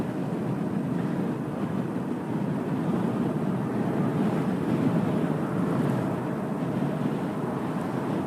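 Steady broadband wind roar buffeting a motorcycle helmet while riding at around 35 mph into a headwind, a constant rushing noise with no speech.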